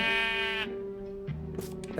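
A Minecraft sheep gives a long, buzzy bleat up close, holding steady for over half a second, followed by fainter game sounds and a few soft thumps.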